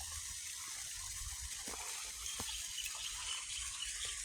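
Continuous rushing water is pumped steadily into a standing pond, a constant gushing hiss with no voices.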